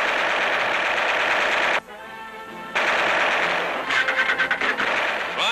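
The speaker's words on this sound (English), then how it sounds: "sharpshooters learn to use aerial machine guns, training their fire upon small discs hurled by a machine into the air" Aerial machine guns in the turret of a model bomber firing at small flying target discs: long, loud, continuous bursts of rapid automatic fire, a brief pause, then more sustained firing ending in choppier staccato bursts.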